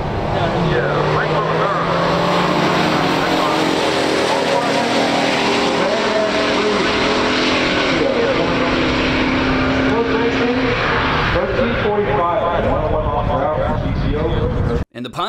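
A 1969 Pontiac GTO Ram Air and a 1968 Plymouth GTX launch in a pure stock muscle car drag race, V8 engines roaring loudly as they rev and pull down the quarter mile, with a commentator talking over the noise and an abrupt drop at the end.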